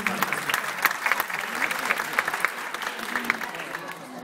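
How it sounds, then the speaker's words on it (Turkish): Audience applause for a young performer named Mustafa at a children's concert in Şanlıurfa, with dense, steady clapping from a crowd carrying through the whole stretch, some voices mixed in. "Peki, Mustafa için bir alkış alabilir miyim?"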